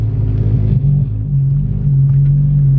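Manual transmission car pulling away slowly in first gear as the clutch is released and gas added, giving a steady, close, loud low engine rumble with a rising hum, and no voices.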